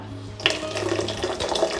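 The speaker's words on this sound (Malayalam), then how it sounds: "ഞാനിതിലേക്ക് ആവശ്യത്തിന് വെള്ളം ചേർക്കുന്നുണ്ട്" Water pours steadily into raw mango juice, a close, continuous splashing trickle lasting a couple of seconds.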